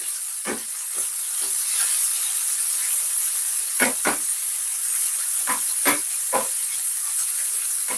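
Jamaican fried dumplings browning in hot oil in a pan give a steady, close frying hiss with occasional sharper crackles and pops.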